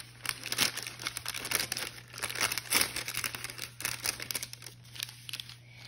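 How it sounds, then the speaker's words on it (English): Packaging for a pair of gloves being opened by hand gives off close, quiet crinkling and rustling in irregular bursts over a faint steady low hum. "to open the packaging"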